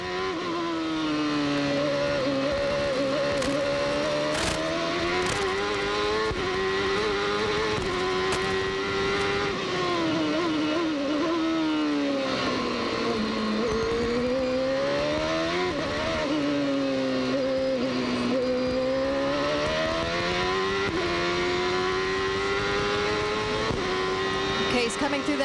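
Robby Gordon's CART race car on an onboard lap at the 1995 Toronto street circuit, its engine screaming continuously and loud as it revs up and down through gear changes and corners, with commentators talking over it.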